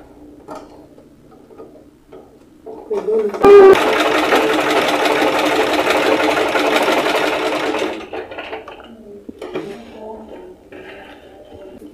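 A sewing machine stitches a zip onto an insulated lunch bag in one loud, fast, steady run of about four seconds, framed by quiet handling clicks before and after.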